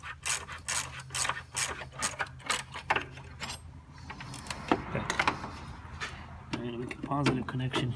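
A ratchet works on a bolt under a Honda Civic Hybrid, clicking in quick rapid bursts with pauses between strokes, close and fairly loud, while a person talks over parts of it.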